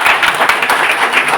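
Seminar audience in Surat applauding, dense sustained clapping from many hands filling the room with steady loud texture and no speech over it.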